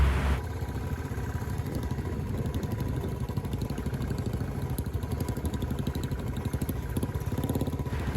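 Royal Enfield motorcycle ridden off-road on a track of small loose stones, its engine thumping steadily and close throughout with a rattling, clattering undertone and no speech.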